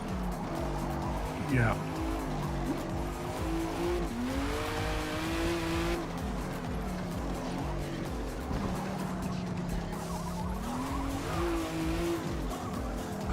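Audi race car in Forza Motorsport, its engine droning and shifting pitch through gear changes with tire noise, a player's voice briefly speaking over it.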